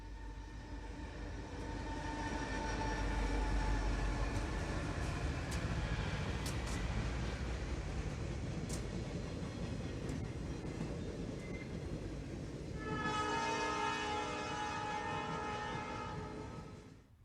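Conrail EMD GP7 diesel locomotive on a work train at LaPorte, a continuous rumbling engine drone with rail noise, steady and fairly close, with a tonal whine rising near the end.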